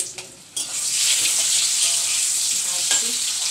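Eggs frying in a pan at home, a loud steady sizzle starting abruptly after a brief quiet moment and continuing close up, with faint clinks and no speech.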